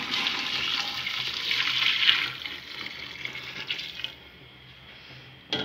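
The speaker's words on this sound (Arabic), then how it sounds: "دابا ملي تقلع الدجاج ديالي عندي هنايا الماء السخون، غنضيفو عليه" Hot water poured from a kettle or jug onto freshly fried chicken in a cooking pot for chicken couscous, a steady close splashing pour that thins and stops near the end, with no voices.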